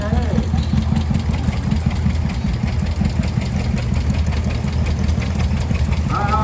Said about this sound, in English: with a 37 John Deere A